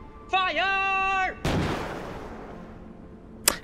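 In the video game Forgotten Seas, a synthetic tone sounds, then one booming ship cannon shot with a long rumbling decay, followed by a sharp metallic click near the end.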